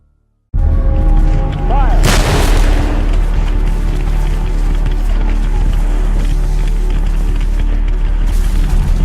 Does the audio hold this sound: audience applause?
no